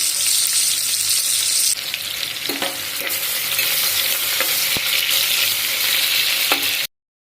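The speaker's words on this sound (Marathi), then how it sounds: "मी कांदा असा टाकून घेते आणि हा कांदा तळायला ठेवणार आहे" Onions sizzle steadily in hot oil with a bright, continuous hiss, broken by a few clinks of stirring before it cuts off.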